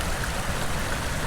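Storm floodwater from a farm driveway runs downhill like a creek, a steady, close, full-bodied rush of water with no pauses and no talking.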